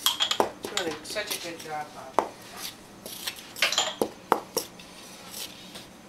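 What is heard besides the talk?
spoon stirring pumpkin muffin batter in a bowl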